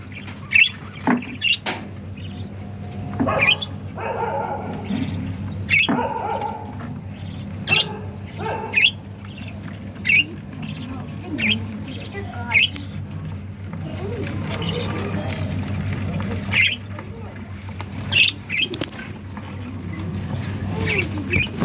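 Budgerigars in a cage give bursts of sharp chirps and squawks while the cage is opened, scattered over a steady low hum with occasional rustling.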